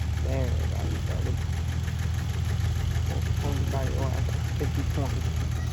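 Small Allis-Chalmers tractor engine running just after starting at a county farm days show, a steady close chugging idle with rapid regular knocking pulses while someone talks over it.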